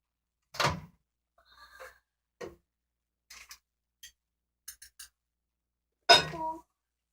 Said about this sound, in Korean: 지금 전자레인지에 넣어가지고 돌릴 거예요.